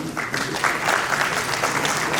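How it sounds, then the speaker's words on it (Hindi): An audience applauds at a ceremony where appointment letters are handed to newly appointed nursery teachers, a steady patter of many hands clapping in an indoor hall for a couple of seconds. "तालियां बजती रहनी चाहिए।"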